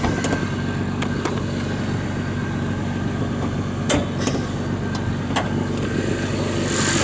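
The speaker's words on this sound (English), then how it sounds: "3-liter straight six sounds just as good as it did from the factory" A 1986 Toyota Supra's 3-liter straight-six engine runs steadily with the hood open, a dense, even idle heard up close, with a few sharp clicks and taps over it.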